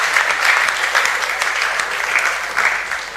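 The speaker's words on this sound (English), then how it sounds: "Let's give all of them a round of applause while they go to their seats." Audience clapping for student debaters at an inter-school debate on ECOWAS regional integration, a dense, loud and even round of applause that holds steady throughout with no voices on top.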